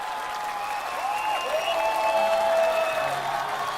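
Studio audience applauding singers on a television music show stage, a steady wash of clapping across the whole stretch, with sustained musical tones playing over it.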